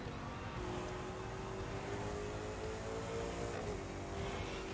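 A car engine drones with a steady exhaust note in The Crew 2 racing game, a continuous hum whose pitch rises slowly as it holds speed, fairly quiet with no voices.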